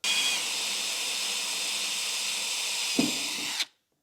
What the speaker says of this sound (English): As soon as you go through that first layer, stop, or you'll drill into your coolers.